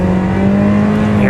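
A BMW E36 318i engine revs hard with the pedal floored, a loud sustained engine note that climbs slightly in pitch toward the end of a short burst, with no talking over it.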